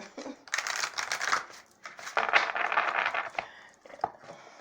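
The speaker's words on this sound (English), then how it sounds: "Bad shuffling." Tarot cards are shuffled in several quick riffling bursts with short pauses between, close and crisp, with no talking.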